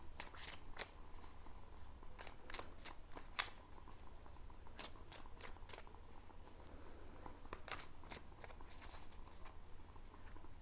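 Tarot cards are shuffled in quiet, repeated bursts of crisp riffling and slapping, close and fairly faint, with short pauses between the bursts.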